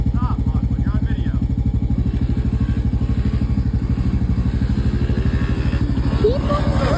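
A pit bike engine running close and loud with a fast, even, chugging pulse that holds nearly steady throughout, while people talk over it.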